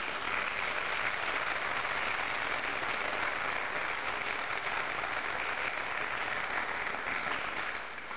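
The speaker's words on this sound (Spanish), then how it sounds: "Denle un aplauso a Cristo." A church congregation claps steadily, a dense, sustained wash of applause that holds for several seconds before tapering slightly at the end.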